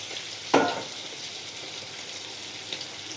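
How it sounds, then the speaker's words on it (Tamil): Coconut milk is poured into a simmering fish curry, giving one brief splashing pour near the start over a faint, steady bubbling simmer. "இப்போ நம்ம தேங்காய் பால் ஊற்றிக்கிறோம்"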